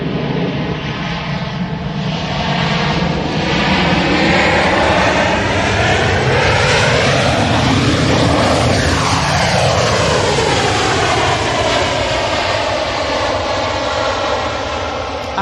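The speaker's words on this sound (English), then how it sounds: "We're going to have an Air France E190." An Air France Hop Embraer E190 jet airliner roars past close by, its engine noise swelling to a loud peak with a sweeping whine before fading slightly, no talking.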